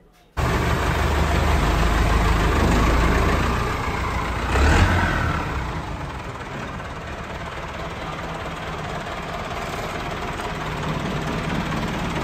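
A Massey Ferguson 385 tractor, England model with about 2700 hours, idles close by with a steady, unbroken diesel rumble and a brief swell in level partway through.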